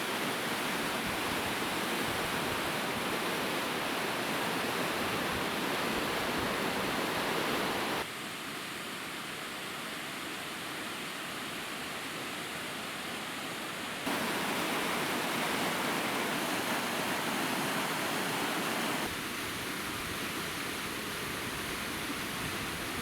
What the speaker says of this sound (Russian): а вскоре и вовсе превращается в достаточно живописный водопад